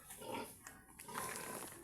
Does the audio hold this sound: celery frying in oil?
no